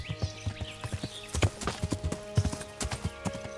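Horse hooves in the medieval game Kingdom Come Deliverance, a steady clip-clop of footfalls at a walking pace, close and clear, with a short whinny partway through.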